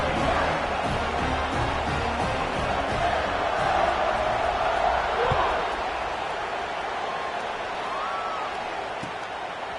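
A college football stadium crowd gives off a continuous, distant roar that swells slightly, with scattered shouts and thumps mixed into the din.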